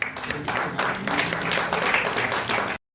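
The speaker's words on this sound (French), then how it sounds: "Merci de l'applaudir, s'il vous plaît." An audience applauds at an awards ceremony for a builders' prize, with steady, dense clapping for close to three seconds before it stops abruptly.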